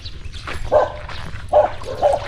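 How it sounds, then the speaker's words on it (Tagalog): A dog barks three times in short, close, fairly loud bursts spaced about a second apart, over a low rumbling background. "Yung aso."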